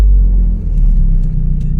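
A BMW G87 M2 engine rumbles loud and close while cruising, a heavy low droning with uneven pulses and faint cabin rattles above it.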